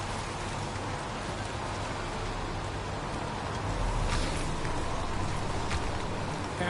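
Steady rain in a video game, a continuous hissing wash of falling drops that stays even throughout and swells slightly toward the end, with no voices.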